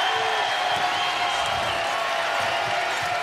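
A big crowd in the Frost arena at a college basketball game between Alabama and South Dakota State, giving a continuous broad roar of cheering and murmur under a commentator's voice.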